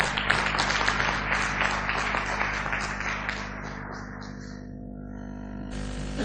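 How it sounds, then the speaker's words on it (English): Audience at a textile congress in Bangkok applauds to welcome the guest of honor, a government minister; dense clapping starts loud and steady, then thins and fades over several seconds, with a low hum beneath. "let us bring a huge round of applause and welcome our guest of honor"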